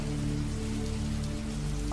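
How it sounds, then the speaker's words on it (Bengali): Heavy night rain pours down steadily, a dense, unbroken hiss of drops striking surfaces, with a low hum underneath. "আজকে তো বৃষ্টি সারা রাত ধরে চলবে মনে হচ্ছে"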